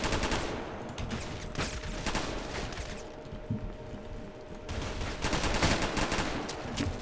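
Sustained bursts of automatic gunfire from a Roblox Phantom Forces match, dense and continuous for the whole stretch, with rapid overlapping shots at fairly steady loudness and no talk.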